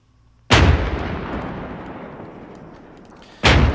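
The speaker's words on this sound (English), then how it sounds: "there's no reason why we would not continue to artillery this position right here" Two heavy artillery blasts from Arma 3 ring out about three seconds apart. The first booms loudly and rolls away in a long, slowly fading echo, and the second hits just as hard near the end.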